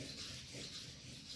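A steel blade edge rubs back and forth over sandpaper laid on wood, a soft, faint, continuous rasping scrape with no voices.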